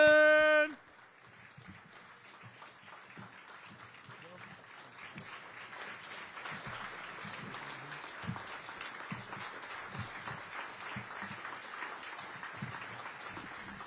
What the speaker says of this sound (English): please join me in welcoming a big round of applause for our 59th Mayor of Aurora, the Honorable Richard C. Irvin